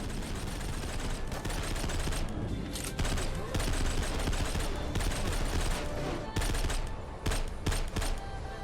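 Rapid video-game gunfire rattles almost continuously in bursts at a military base, loud and close, with short gaps between volleys.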